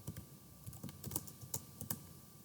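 Someone types a short command on a computer keyboard, a quick burst of soft key clicks in an uneven rhythm, close and fairly quiet with no speech.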